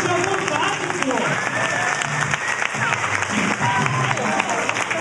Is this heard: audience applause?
yes